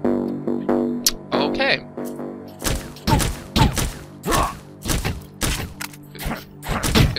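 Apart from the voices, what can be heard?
breaking honeycomb hives in a video game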